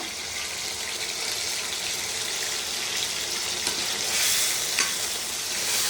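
Masala sizzles and fries steadily in a hot pan for a fish curry, a dense, even hiss with occasional scrapes of stirring, close and continuous.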